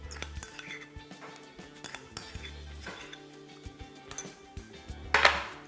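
Utensil clinking and scraping against a bowl while mustard is mixed in, a series of light metallic taps and clinks throughout, with a brighter clatter near the end; no talking.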